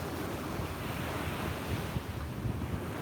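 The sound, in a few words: wind blowing on the beach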